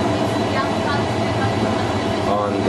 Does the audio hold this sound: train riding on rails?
yes